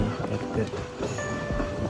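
Steady rumble of a train in motion near Vavuniya station, Sri Lanka, with a faint high whine, people talking over the noise.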